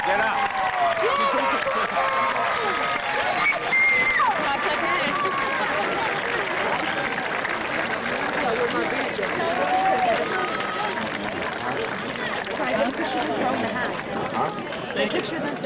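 High school graduation crowd applauding parents, a dense, steady wash of clapping mixed with crowd chatter and babble throughout, loud and continuous.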